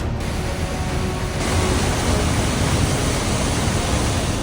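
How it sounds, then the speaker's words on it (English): Steady, powerful roar of a large waterfall plunging into a mighty cavern below a suspension bridge, a dense continuous rush of water close by with no pauses. "Waterfall behind me is pretty spectacular."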